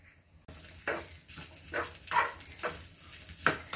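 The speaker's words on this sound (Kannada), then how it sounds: "ಇಷ್ಟನ್ನು ಹಾಕೊಂಡು ನೀಟಾಗಿ ಹುರಿದುಕೊಳ್ಳೋಣ ಒಳ್ಳೆ ಫ್ಲೇವರ್ ಬರೋ ತನಕ ಹುರಿಸ್ಕೋಬೇಕು" Urad dal, cumin, coriander seeds, dry chilli and curry leaves frying in a pan for an Udupi-style bendekai huli, with close crackling sizzle and repeated scraping stirs at a steady rhythm, no voices.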